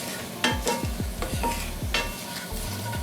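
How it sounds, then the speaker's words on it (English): Garlic and bay leaf sauteing gently in oil, with a utensil stirring and scraping the pan in repeated strokes over a steady low sizzle, close and moderately loud, no voices. "Now you just want to gently saute the garlic"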